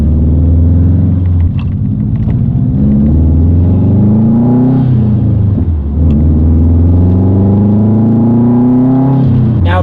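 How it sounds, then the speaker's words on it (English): A Subaru WRX fitted with a new aftermarket exhaust pulls under load on the road, with a loud, close engine rumble that rises and falls through several rev sweeps and gear changes, and no talking. "Let's go on a quick little drive and see how it sounds under load."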